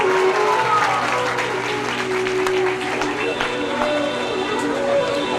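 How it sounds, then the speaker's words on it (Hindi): Loud audience applause at a spiritual discourse gathering in Jammu, sustained clapping mixed with a speaking voice and some tonal background sound. "ताली बजाएंगे जोर से"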